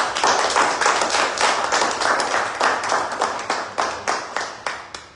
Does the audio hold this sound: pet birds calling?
no